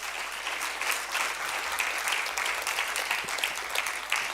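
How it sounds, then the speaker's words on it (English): Full, steady applause from a conference audience welcoming a speaker to the stage, dense and continuous throughout with no break. "Please give a round of applause."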